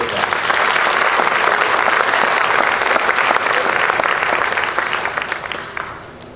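Sustained, full applause fills a school band concert hall for the soloists, steady and close for several seconds before thinning out and tapering off at the end.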